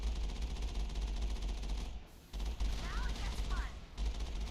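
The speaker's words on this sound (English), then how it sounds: "Those are turrets, and they're already firing at me." Video game turrets fire at the player in rapid sustained bursts, dense crackling gunfire that fills the scene with a brief lull midway, fairly loud and continuous.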